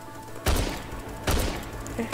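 Gunfire in a Fortnite-like battle royale video game: two loud bursts of shots roughly a second apart, each trailing off into a rumbling tail, heard alone with no talk.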